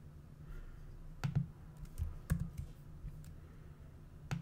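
Computer mouse clicks while browsing a web page: sparse, soft taps spaced irregularly over quiet room hum, including a quick double click.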